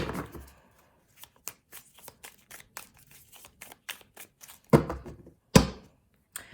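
Tarot cards being shuffled by hand: a run of quick, crisp riffling snaps and taps, a few louder flicks near the end, close up with no talking.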